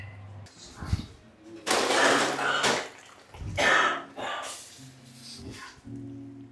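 A foamy orange-flavored candy mixture is poured into a mold at close range, heard as a few broad, splashy pouring bursts with brief pauses between them.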